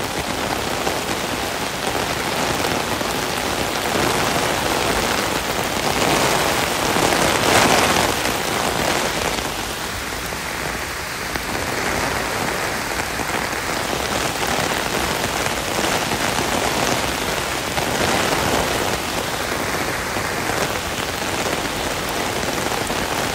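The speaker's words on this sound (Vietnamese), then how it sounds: "Mưa gió rất là lớn hồi đó" Heavy rain pours down with gusting wind during a historic storm, a dense, continuous hiss of drops on surfaces that swells and eases slightly over time, with no voices.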